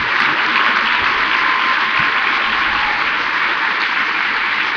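An audience at the CPAC 2009 conservative political conference bursts into loud, continuous applause. The dense clapping holds steady for several seconds with no voices standing out.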